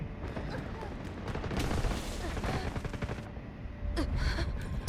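Rapid gunfire rattles in bursts during a Delta Force Mobile firefight, loud and close with short pauses, while a player talks over the shooting.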